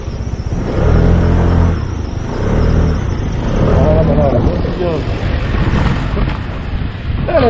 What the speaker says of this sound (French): il y a une voiture qui arrive